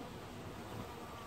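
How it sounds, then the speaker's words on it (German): Honey bees taking up nectar at a hive, giving a steady, dense buzzing drone that fills the short moment without a break. "dann sehe ich, wie die Biene mein Nektar aufnimmt"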